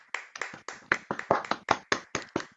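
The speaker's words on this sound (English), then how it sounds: "Can we give a round of applause to Bryce Young?" About a dozen crisp hand claps from a single nearby person, evenly spaced in a quick steady rhythm, alone without talk.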